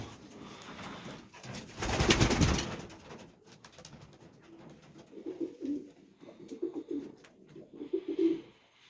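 Pigeons coo in low, soft murmuring calls in a loft, several birds overlapping, with a louder burst of fluttering noise early on.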